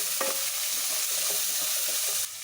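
Small shallots and grated coconut fry in coconut oil, a close, loud hiss with scraping stir strokes of a spoon in the pan, steady throughout.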